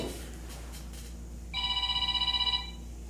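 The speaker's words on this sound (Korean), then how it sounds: "내 거 전화 같은데요?" A telephone rings during a church service, a rapid trilling electronic ring that starts partway through and warbles steadily for about a second over a quiet room hum.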